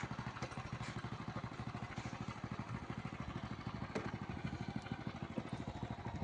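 A motorcycle being ridden on a cool, overcast day gives a steady, fast, rhythmic engine putter throughout, fairly low in level and continuous, with no voices.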